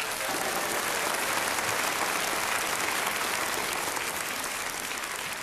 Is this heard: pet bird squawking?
no